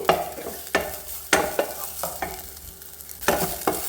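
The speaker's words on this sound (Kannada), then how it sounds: "ಶುಂಠಿ ಇದನ್ನಷ್ಟು ಒಂಚೂರು ಲೈಟಾಗಿ ಹಾಗೆ ಫ್ರೈ ಆಗಿ ಅಷ್ಟೊತ್ತಿಗೆ ಮಸಾಲೆಯನ್ನು ಮಾಡ್ಕೊಬೋಣ" Ginger frying lightly over a low flame for Goan mackerel sukka, a soft sizzle punctuated by several sharp clattering stirs of a spoon against the pan.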